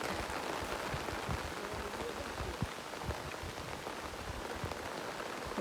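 Steady rain pattering on a surface, with scattered louder drops and a constant wash of noise throughout.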